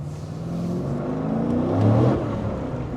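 A car engine fitted with a Chopper Reid camshaft and CNC cylinder heads pulls at about half throttle, a steady close rumble whose pitch climbs and swells near the middle before settling, with no talking over it.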